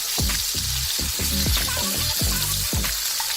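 Steak fries in butter with crushed garlic in a frying pan, producing a continuous close hiss and crackle that sits under a melodic music backing.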